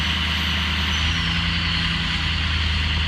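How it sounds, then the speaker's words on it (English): A diesel truck engine revs while its variable-geometry turbo is exercised, a loud continuous low rumble with steady throbbing and a faint high whine drifting above it, close by. "I just call this exercising the turbo"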